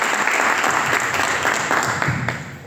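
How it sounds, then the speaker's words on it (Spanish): An audience at a community gathering in Villa del Rosario claps for the organising team, a brief burst of dense, steady applause that fades slightly at the close. "un aplauso para el equipo"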